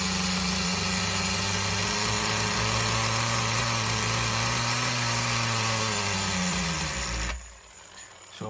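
A nitro RC car engine built from an HPI block, a Duratrax piston and sleeve and a Tamiya carburetor on a Tamiya TGS-R chassis runs with a steady, loud, buzzing drone. It cuts out abruptly near the end as the fuel runs dry.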